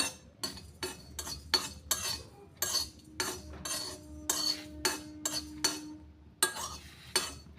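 Ingredients being dry-roasted and stirred in a kadai for karai tea, with a utensil scraping and clinking against the pan in a steady rhythm of short, close strokes, with no talk.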